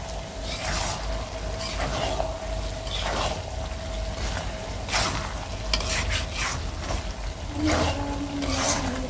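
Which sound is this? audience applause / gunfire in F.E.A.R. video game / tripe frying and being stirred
tripe frying and being stirred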